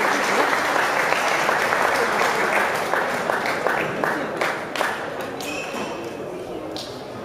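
Audience applause at a boxing championship final awards ceremony, a dense, steady wash of many hands clapping that thins slightly toward the end, with a few louder individual claps standing out.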